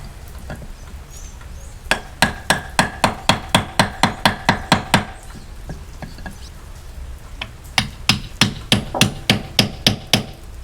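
A boat propeller shaft flange being hammered, sharp metallic blows struck in two fast steady bursts of about a dozen hits each, close and loud with a short pause between.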